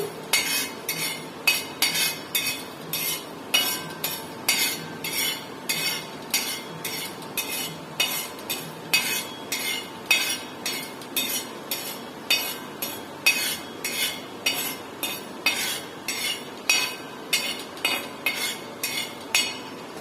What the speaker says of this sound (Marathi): अशा प्रकारे ही बडीशोप थोडीशी लो टू मीडियम गॅसवर आपण भाजून घेऊया.